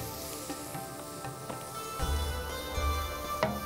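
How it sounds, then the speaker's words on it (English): Oil sizzles and crackles steadily in a tilted pan as garlic fries, with a few louder pops and a slight swell partway through. "Tilt it and start frying it."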